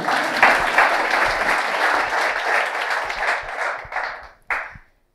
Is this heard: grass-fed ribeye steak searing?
no